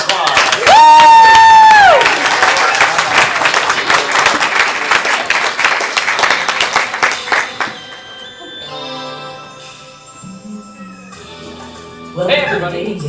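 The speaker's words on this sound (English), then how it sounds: "would you come to a round of applause?" A studio audience at a live improv comedy show bursts into loud applause and cheering, with whoops at first, then clapping that thins out while people talk over the tail end.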